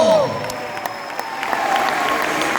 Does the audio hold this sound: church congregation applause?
yes